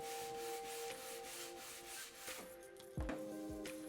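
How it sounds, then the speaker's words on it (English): A FastCap Fastbreak edge trimmer is swiped along freshly applied edge banding to break the sharp edge, giving a soft, close rubbing and scraping sound that ends in a brief knock. "to clean up the edge so you don't have a sharp edge, I use the FastCap Fastbreak"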